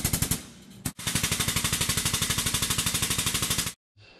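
A Harbor Freight Holt automatic air grease gun with a locking grease coupler runs in rapid, evenly spaced pneumatic pulses. A short burst is followed by a brief break, then a steady run of about three seconds that stops abruptly.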